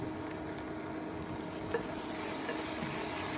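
Chicken curry fries in a pan on an induction hob set to six hundred and is stirred, giving a steady, moderate sizzle with faint scraping and no talking.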